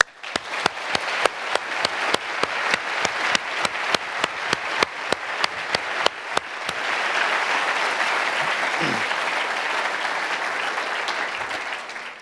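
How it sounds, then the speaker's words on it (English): Audience at the 46th St. Gallen Symposium applauds the support crew: rhythmic, sharp claps at first, then merging into a dense, sustained roar of applause filling the hall for several seconds. "So I think we should actually give, in appreciation of what they've done, a real round of applause for them."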